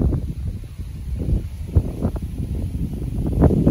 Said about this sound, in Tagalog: Na naman na hangin dito sa amin.